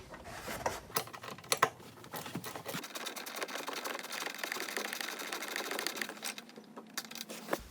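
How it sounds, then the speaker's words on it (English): A small socket wrench removes 12mm bolts from the airbag control module area of a Toyota Camry, producing close, irregular ratcheting and metallic clicks with a few sharp knocks, fairly quiet and with no speech. "Alright, so I'm going to put it on my little socket wrench here. And I'm going to come right down into here and start removing it."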